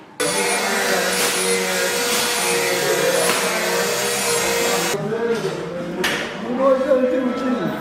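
A Dremel rotary tool carves a wooden puzzle piece, giving a steady, loud grinding whine that runs unbroken for several seconds before dipping and roughening into shorter bursts, with voices faintly present.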